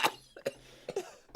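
Several faint, short coughs come in quick, uneven bursts from a podcast host, rough and throaty, close to the microphone but low in level.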